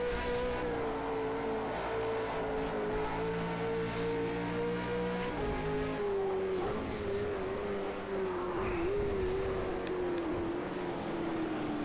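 Race car engine lapping Bathurst in the Project CARS 2 racing game, a loud continuous drone that holds a high pitch, then gradually sinks as the car slows, with no pauses and no speech.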